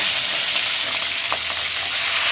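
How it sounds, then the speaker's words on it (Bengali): A rohu fish head fries in hot oil, giving a loud, steady sizzle with faint crackles that runs unbroken throughout and has no voices over it. "এই তো মাছের মাথাটা ভাজা হয়ে গেছে"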